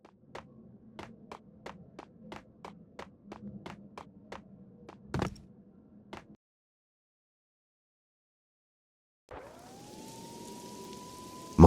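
Rain and police sirens in the 2003 video game Max Payne 2: a run of sharp, evenly spaced ticks and a loud thump, then silence, then a steady hiss with a rising, held siren-like tone.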